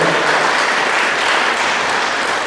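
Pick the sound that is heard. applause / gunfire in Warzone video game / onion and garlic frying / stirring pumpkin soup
applause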